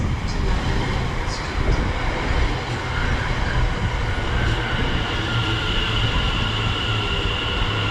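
Steady, loud rumble of a 10-coach passenger train at a station platform, with broadband rail noise holding throughout and no clear voices.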